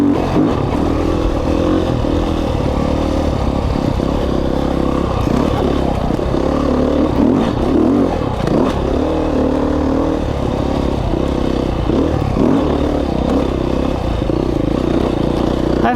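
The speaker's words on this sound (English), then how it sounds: "I've had no issues with this bike since I did that little modification to it, the throttle body." A dirt bike with a modified throttle body riding a single-track trail in Idaho, giving a loud, continuous close engine drone with shifting revs and rattling, clattering ride noise throughout.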